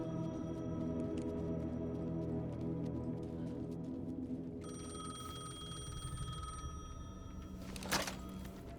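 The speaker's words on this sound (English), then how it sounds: "The payphone was ringing." In the Alan Wake 2 video game, a payphone rings as a sustained electronic bell tone over a steady ambient drone, with a brighter burst near the end and no speech.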